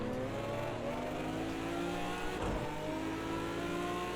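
Race car in Project CARS 2 accelerating hard, its engine revving with rising harmonic pitch and steady loud drone, one brief passing burst midway, no talk.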